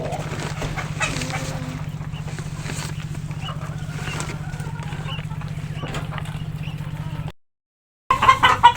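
Quails call at a quail farm with short, repeated chirping clucks over a steady low hum. The sound drops out briefly near the end, then a few louder calls return.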